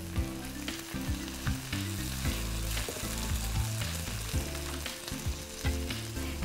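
Chicken pieces with black pepper sizzling and frying in a pan while being stirred, a busy continuous crackle and spatter with scraping stir strokes, close and steady, with no talking.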